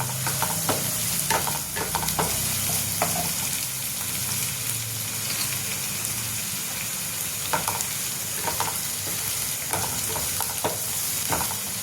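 Chillies and garlic fry in hot oil for a Maharashtrian cabbage zunka, a continuous close sizzle with repeated scraping stirs of a spoon against the pan.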